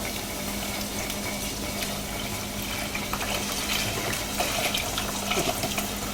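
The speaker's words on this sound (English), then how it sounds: "and then put in the broth. Just with 2 cups of broth." Broth being poured into a pot of rice, two cups added after salt and pepper, giving a steady watery pour and splash that runs continuously for about six seconds with no voices.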